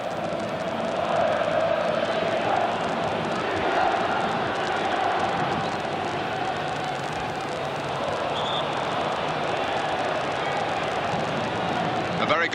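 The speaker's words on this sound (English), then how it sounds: "A very good crowd in a very famous stadium." Broad, steady murmur and roar of a large football stadium crowd at a 1989 AC Milan versus Real Madrid match, a continuous distant wash of voices with occasional swells and a commentator talking over it.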